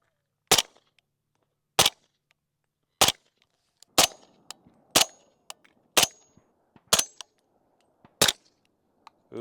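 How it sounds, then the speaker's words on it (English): A suppressed 300 Blackout Q Honey Badger and a Sig Rattler fired one after another outdoors, giving about nine sharp, muffled cracks spaced roughly a second apart, each trailing a brief echo with clinks between shots. "I'll show you another clip of me shooting them side by side."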